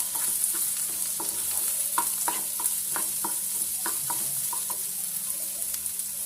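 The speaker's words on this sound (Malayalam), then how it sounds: "ഇതൊന്ന് വഴണ്ടി വരുമ്പോൾ നമുക്ക് സവാള ഇട്ട് കൊടുക്കാം." Onions frying in coconut oil for a Kerala-style chicken curry, a steady close sizzle with repeated light scrapes of a spoon stirring through the pan.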